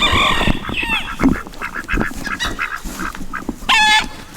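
Sebastopol geese honk loudly and repeatedly nearby, with harsh nasal calls scattered across the clip and a final burst of several honks.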